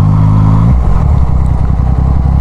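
A Yamaha MT-09 motorcycle rides through Phuket at night, its engine loud and close, a steady low drone that shifts pitch partway through before settling into a rough, clattering run.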